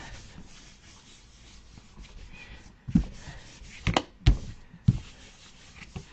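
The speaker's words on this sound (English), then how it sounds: "Give it a really good rub" Hand rubbing pattern paper down onto a gel print, a soft steady scuffing at close range with a few louder rubs and taps toward the end; no talking.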